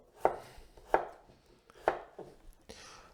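A knife chops potatoes into rough quarters on a board for a Spanish tortilla, with three sharp, evenly spaced cuts followed by a couple of softer knocks, close and clear with no talking.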